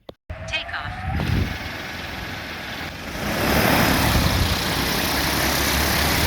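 A Duff Drones AGI sprayer drone starts its rotors and lifts off, the loud steady roar swelling after a brief click, with talk heard over it.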